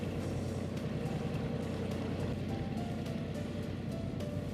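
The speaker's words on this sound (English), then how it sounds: "we have started the engine to make sure we arrive before dark" A boat engine runs steadily on a voyage late in the day, a low continuous drone with even loudness and no talk.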